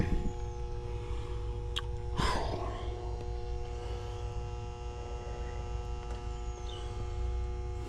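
An HVAC compressor that fails to start gives a steady electrical hum and buzz, with a brief rough surge about two seconds in, heard alone at moderate level.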